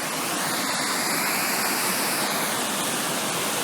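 Water rushing along a river at Merkala, a steady dense broadband roar of flowing current, loud and continuous throughout with no voices.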